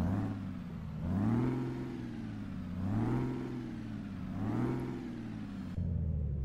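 Simulated truck engine from an Optimus Prime truck mod in Euro Truck Simulator 2, with an 18-speed gearbox, revving up and dropping back in three repeated cycles. It sounds like a steady, loud, rumbling diesel heard from outside the cab, with no talking.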